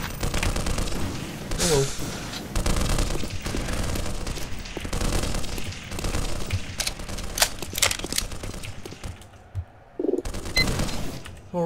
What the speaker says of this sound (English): This machine gun melts all the aliens.